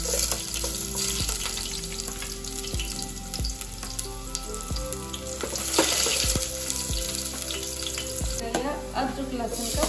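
Onion frying in a pan for thukpa, a loud, continuous sizzle close up with repeated stirring scrapes and taps of a spoon against the pan.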